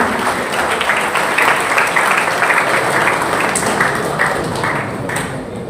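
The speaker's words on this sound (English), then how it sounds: "Can we give a big round of applause, understanding this legacy?" At a V.O.C. conference at AMET University, an audience breaks into steady applause honoring a legacy, a continuous bed of clapping at moderate volume that tapers off softly near the end.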